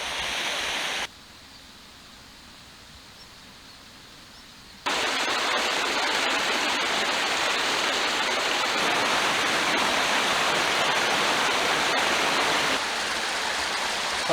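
A waterfall in the Northumberland hills, a loud continuous broadband rush of falling water, close by and steady after a quieter opening stretch.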